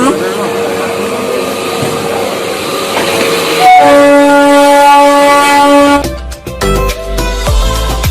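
A train at a station or in motion, with a steady rumbling roar, a sustained horn-like tone building in the middle, then clattering, clanking bursts as it moves along.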